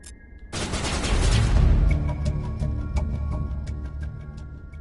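Heavy gunfire from a Mass Effect 1 Legendary Edition firefight erupts loud and close after a brief quiet moment, then continues as a sustained, rapid barrage of shots and bursts.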